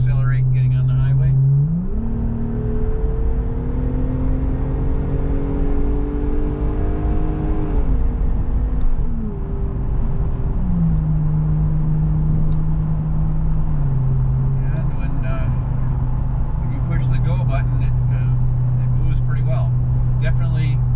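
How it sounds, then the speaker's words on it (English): A Jeep Wrangler 3.6L V6 with an MRT axle-back exhaust accelerating onto a highway, a deep growl rising through the gears with shift drops, then settling to a steady cruise drone, heard from inside with someone talking. "You get a nice growl to the exhaust under acceleration"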